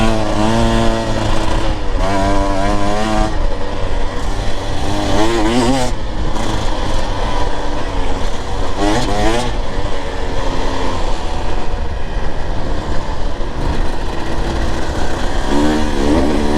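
A Husqvarna TE 150 TBI motorcycle climbs uphill on a cactus-dotted trail, its two-stroke engine loud and close, revving and rising in pitch through gear changes over constant wind rush.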